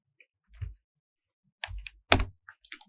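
Scattered keystrokes on a computer keyboard while entering Java code, a few separate clicks and one louder tap, close and otherwise quiet.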